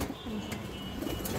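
Pigeons of an old high-flyer breed coo softly in low, repeated throaty notes, close by and continuous, with no talk.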